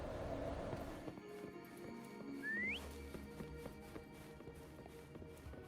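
A whistle rises sharply in a video game, answered by the horse Foam's hooves galloping in over a steady background of game music and ambience.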